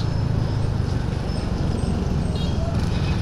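Road traffic on a highway from Manila toward Bicol, heard from a moving motorcycle, a steady dense rumble of engines and wind roar with no break.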